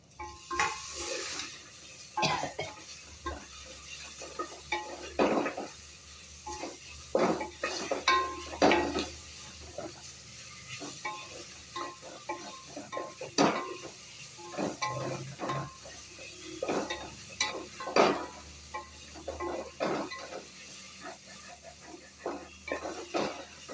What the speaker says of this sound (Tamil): இஞ்சி துரி வச்சது வெள்ளைப்பூடு துரி வச்ச ரெண்டையும் போட்டு பச்சை வாடை போக நல்லா வதக்கிடுவோம்